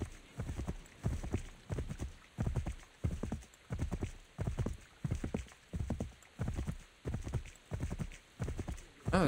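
A horse's hooves in Assassin's Creed 3 Remastered on a battlefield area, a steady, rhythmic clip-clop of galloping strikes repeating about once a second, close and clear with no talk over it.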